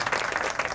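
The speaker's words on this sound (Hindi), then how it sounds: "अगर अच्छा लगा हो तो तालियां बजाकर आशीर्वाद जरूर" Audience clapping fills a devotional Hindu jagran, a dense, steady wash of many hands applauding close by, continuous through the short moment with no voices on top.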